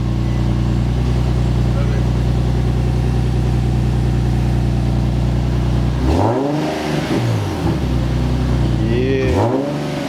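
An Infiniti G37 with a new exhaust idles with a deep, steady drone, then revs up twice in rising sweeps that fall back with small pops, loud and close, while people talk over it.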